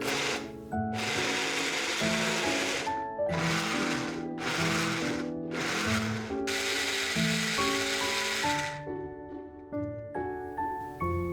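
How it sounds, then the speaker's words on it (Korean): A blender grinds spinach with two to three tablespoons of water, a loud motor whirring in several bursts separated by short pauses, then winding down at the end. "시금치를 블렌더에 넣어주세요. 물을 2-3큰술 넣고 곱게 갈아주세요."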